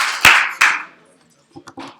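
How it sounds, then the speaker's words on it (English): Two sharp, loud hand claps from a group of students in a classroom, about a third of a second apart, followed by faint scattered murmurs. "clap your hands twice if you can hear my voice"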